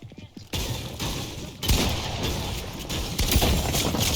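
Gunfire from the battle-royale game Fortnite crackles in dense, rapid volleys at close range, with booming impacts as a player shoots into a wall. Speech is faint underneath.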